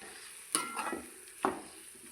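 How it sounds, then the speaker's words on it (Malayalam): Jackfruit stirred in jaggery syrup in a pan, two soft scraping strokes of a spoon against the pan over a faint continuous simmering sizzle, close and quiet, with no talking. "ശർക്കരപ്പാനി ഒഴിച്ച് നന്നായി ഇളക്കി."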